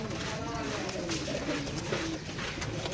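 Pigeons for sale cooing close by in a steady, dense wash of soft repeated coos, with voices mixed in throughout.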